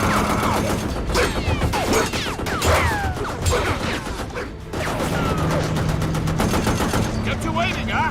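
Bursts of video-game gunfire in Metal Gear Rising, rapid automatic shots and sharp cracks with metallic clanks, loud and dense throughout, with a brief lull midway and game music and effects layered underneath.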